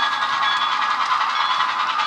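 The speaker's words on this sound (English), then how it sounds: "There we go, the train's going past the depot." An HO scale model train on a 1950s Milwaukee Road layout rolls past the depot, a steady, close rattling hum with fine clicking from the track and no talk.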